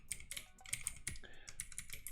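Quiet, close typing on a computer keyboard during a programming session, a fast irregular run of light key clicks with no talking.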